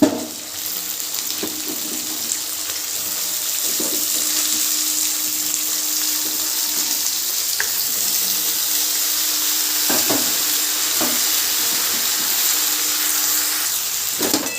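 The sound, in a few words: washed vegetables added to hot pan, frying for pui stalk chochori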